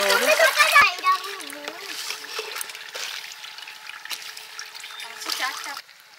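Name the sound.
draining water from rice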